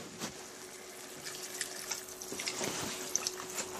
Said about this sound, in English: So I add the whole water.